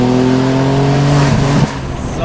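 BMW M2 G87 with stock exhaust revving hard in a loud, sustained engine drone, the pitch rising and then dropping sharply near the end, with people talking over it.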